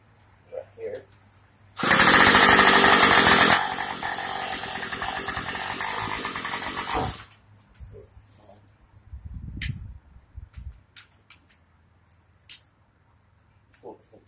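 A Troy-Bilt gas string trimmer engine runs and revs loudly for several seconds while cutting weeds, then cuts off, followed by scattered handling clicks and knocks; a voice is heard briefly.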